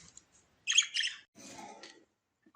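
A pair of lovebirds in a cage giving a few short, sharp chirps and a raspy squawk, close and fairly quiet, separated by brief silences.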